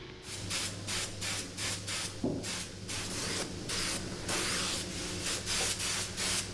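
Spray gun bursts hiss in repeated pulses as a primer coat is applied to steelwork on an old bridge under restoration, close and steady.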